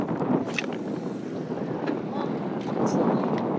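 Wind gusting across a beach during surf fishing, a steady close rush that buffets the microphone for the whole stretch, with no voices.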